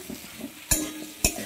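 Drumsticks and potatoes are stirred in sizzling spices in a pan with salt, giving a soft, steady frying hiss broken by two sharp utensil scrapes against the pan close by.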